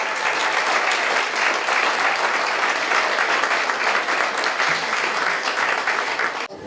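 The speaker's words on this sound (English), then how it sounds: "There's just a round of applause" A room full of people at a charity gathering in Buncrana gives a warm round of applause, continuous dense clapping at a steady, fairly loud level for over six seconds before it cuts off abruptly.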